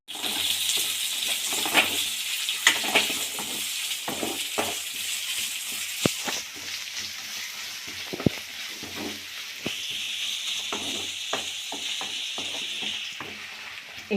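Potatoes sizzle steadily in hot oil as onion is added for palak rice, with scattered clinks and stirring scrapes over a continuous frying hiss and no talking.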